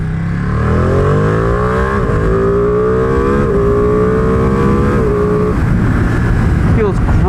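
A 2020 Ducati Panigale V2 accelerating hard in sport mode, its loud engine note climbing steadily through the gears with quick-shifter breaks between rising pitches, heard close with strong wind rush.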